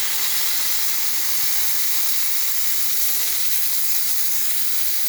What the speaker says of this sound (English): And now we have nice steam.